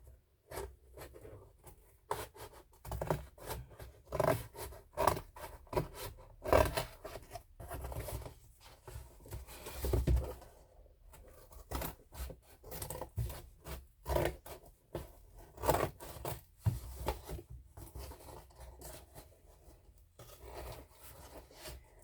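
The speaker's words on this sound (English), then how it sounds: "Let me see if the scissors will cut better." Scissors cutting during a resin craft haul, with repeated snipping and rubbing handling noises in an irregular rhythm, close and moderately loud, without talk.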